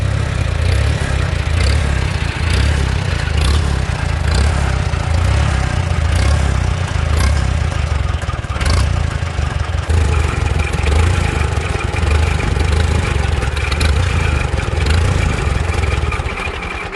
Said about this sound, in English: Take her down to idle.